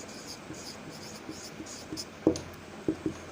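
Pen writing a job application letter on paper, faint scratchy strokes in short bursts with a few soft taps, close and quiet with no talk.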